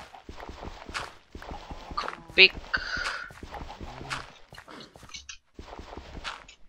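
Horse hooves clopping in the Minecraft video game, a few light, scattered steps sitting beneath a man's near, continuous talking.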